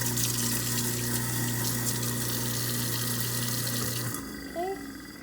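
A kitchen sink faucet runs steadily in a studio apartment kitchen, a broad rushing hiss with a low pump hum, then cuts off abruptly near the end, leaving a quieter room.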